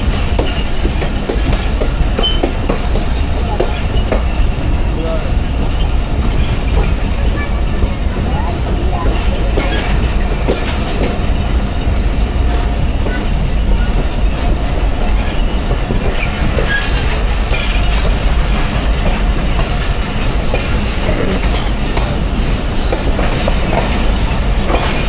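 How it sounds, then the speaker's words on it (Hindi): Hazara Express passenger train at Kotri Junction, with a steady loud rumble and rattle of rail cars that continues without a break and without talk. "कोटरी जंक्शन पहुंच गई है ट्रेन और यहाँ पे स्टॉप है इसका।"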